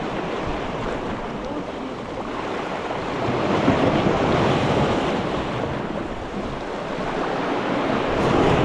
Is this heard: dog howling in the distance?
no